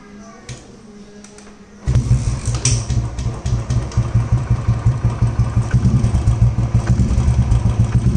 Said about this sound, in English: This will be rev of the Motowing.